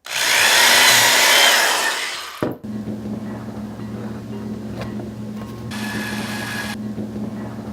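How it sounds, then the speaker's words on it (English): A drill press bores into a workpiece with a loud, dense whine for about two and a half seconds, then stops abruptly, leaving a lower motor hum running steadily near the microphone, with a short burst of noise later. "this is an example of a drill press. This is a drill, and this is a press."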